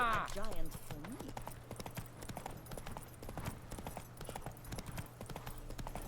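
The horse Roach trots in The Witcher 3 video game, its hooves clip-clopping in a steady rhythm up close, with speech at the start.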